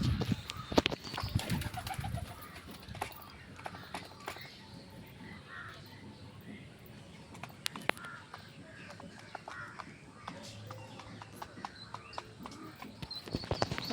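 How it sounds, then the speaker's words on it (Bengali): Pigeons gather at water set out for them to drink, cooing softly up close with scattered wing flutters. Crows caw now and then, and faint background clatter runs through the moderately quiet scene. "তো ওখানে সব পায়রা নেমে গেছে"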